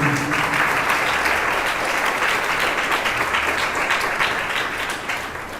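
A church congregation breaks into loud, steady applause, dense clapping from many hands that carries on for several seconds and slowly tapers off near the end.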